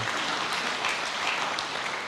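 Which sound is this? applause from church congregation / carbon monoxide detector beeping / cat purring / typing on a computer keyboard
applause from church congregation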